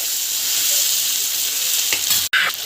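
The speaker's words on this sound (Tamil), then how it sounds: "இதில் வந்து நல்லா வந்து வதக்கிட்டோம்" Fenugreek leaves and green peas sauté in a hot pan with a loud, steady sizzle. A quick spatula scrape comes near the end, followed by a brief break in the sound.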